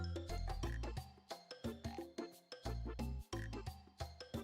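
Frogs croaking at night, a rapid series of loud, resonant rhythmic croaks repeating in close succession, clear and near with no talking.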